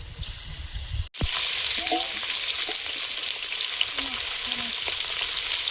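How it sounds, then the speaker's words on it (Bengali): Fish frying in hot oil in a home kitchen, a loud steady sizzle throughout, briefly interrupted by a sharp click near the start, with faint clinks of utensils and no talking. "মাছ ভাজার পর্বটা শেষ হলো।"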